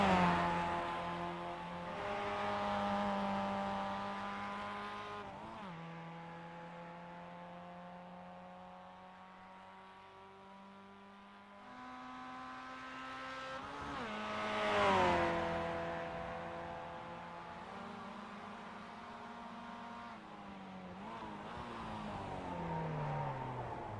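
Mazda MX-5 race cars in the iRacing simulator at the Charlotte Roval, a steady engine whine rising and falling through gear changes and braking, with revs climbing and dropping repeatedly.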